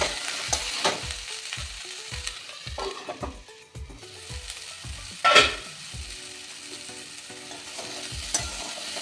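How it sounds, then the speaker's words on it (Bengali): Cauliflower and green peas fry in a pan with a steady sizzle while a spoon scrapes and stirs in brisk, regular strokes about twice a second, close and fairly loud. "এই পর্যায়ে দিয়ে দেব কিছু মটরশুঁটি, আর একটু ভেজে নেব।"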